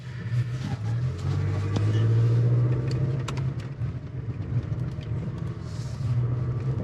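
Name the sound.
midsize truck driving off-road in four-wheel drive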